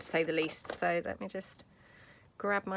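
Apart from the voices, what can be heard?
No distinct noise like a dog, phone or traffic.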